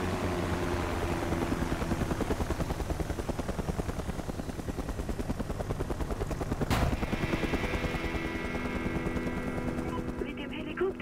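A helicopter's rotor in the video game Mercenaries 2: World in Flames thumps steadily in a rhythmic drone, joined by bursts that resemble gunfire, with a sharp crack midway and engine hum throughout.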